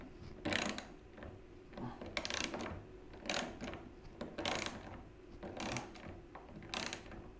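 A ratcheting socket driver being turned by hand in a woodworking shop while building a rolling cabinet base, giving bursts of rapid clicking that repeat about every second.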